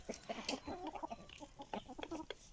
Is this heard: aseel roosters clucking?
yes